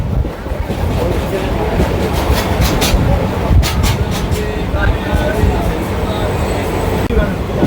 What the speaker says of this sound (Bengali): লোকাল ট্রেন আর মেট্রোর মধ্যে রেস চলছে।